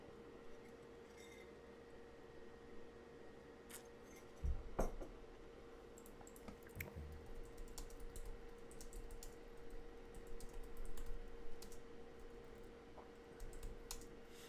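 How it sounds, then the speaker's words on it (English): Faint, scattered clicking of fingers typing on a computer keyboard, irregular keystrokes continuing over a quiet background with a couple of louder knocks. "I don't know why I'm typing."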